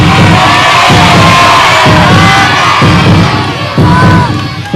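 A studio audience at a reality TV eviction show shouts together in loud, rhythmic chanting bursts, a dense crowd roar that persists throughout.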